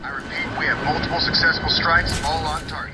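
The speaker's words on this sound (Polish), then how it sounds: "No i muszę uważać na te śmigłowce." Helicopters in the video game Batman: Arkham City, a steady mechanical rotor and engine drone running continuously with game sound effects under a voice talking.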